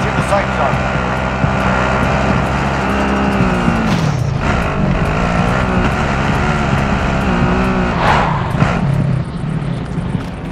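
A vehicle in Call of Duty: Modern Warfare roars steadily as it drives, its engine drone loud and constant, with brief bursts of background game noise on top.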